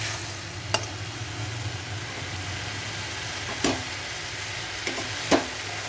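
Spice paste being stir-fried in a pan makes a low, steady sizzle, broken by a few sharp scrapes or clicks from the spoon against the pan. No one speaks.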